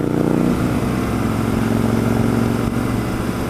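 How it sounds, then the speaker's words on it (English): A Harley-Davidson Sportster motorcycle engine and exhaust pipes, heard as a loud, continuous low rumbling drone while riding, steady throughout with no talk. "Get a little bit of Harley Davidson pipe sound."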